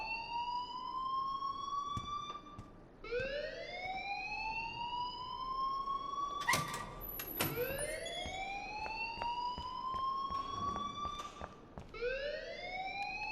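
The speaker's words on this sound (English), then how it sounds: "please turn off that alarm since that's your job" A repeating electronic alarm in the video game Life Is Strange gives rising, siren-like whoops that restart every few seconds, fairly faint, with a few sharp clicks and thumps in between.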